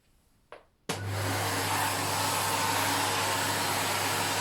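A keyboard vacuum cleaner switches on abruptly after a short soft noise, then runs with a steady, loud motor whine and airflow hiss that continues without a break.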